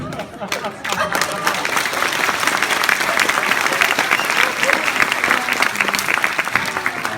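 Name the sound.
audience applause at a Comic Con panel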